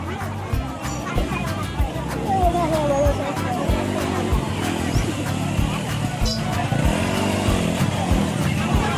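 Motorcycle engines idle and rev at a small outdoor Honda bike market, rumbling engines passing nearby under steady crowd babble and people talking throughout.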